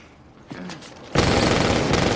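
Gunfire in a film's robbery scene, where a man is surrounded and shot in the chest and leg: a few soft thuds give way to a sudden, sustained loud burst of rapid automatic fire that fills the rest.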